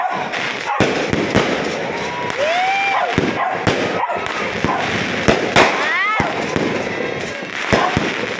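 New Year fireworks burst around a home, with repeated loud bangs, crackles and rising whistles close by and dogs barking in between, while a person briefly exclaims.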